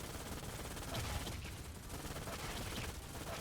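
Continuous rapid gunfire from a gun in a shooter video game, a dense, steady barrage lasting a few seconds at moderate level, with no talking.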